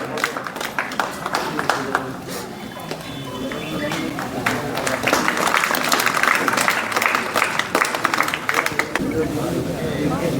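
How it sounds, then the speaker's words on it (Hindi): Audience at a Baba Ramdev Public School ceremony honouring topper students claps loudly and steadily, a dense, continuous wash of applause lasting the whole stretch with scattered sharper claps on top. "क्या जोरदार तालियों से इस पल का स्वागत किया जाए"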